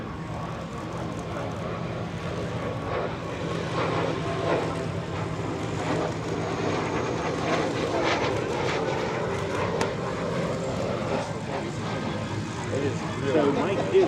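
Messerschmitt Me 262 jet aircraft making a low photo pass at EAA AirVenture 2025: a steady, building engine roar that swells toward the end, with a commentator talking over it.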